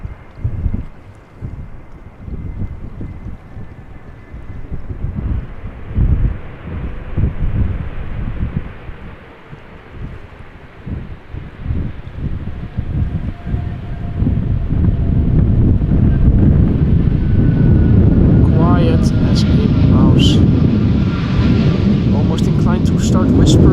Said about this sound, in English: I'm not sure if you'll hear that over the sound of the wind.